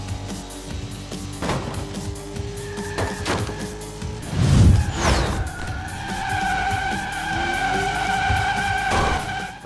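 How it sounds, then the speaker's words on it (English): A car drifts in the racing video game Split/Second, with steady tire squeal and engine tones under an even road roar that swells briefly near the middle, with no talk. "I'm wondering if the drift sound's like procedurally done"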